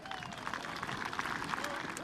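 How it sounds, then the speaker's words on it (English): Crowd applause for an infantry regiment at an outdoor military birthday celebration, a steady wash of clapping with some cheering, fairly loud and continuous throughout. "another round of applause"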